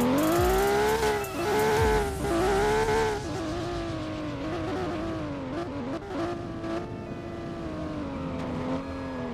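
A sports car engine climbs through the revs with strong, rising harmonic pitch, sustained and close, with tire noise and some swells of acceleration, no talk over it.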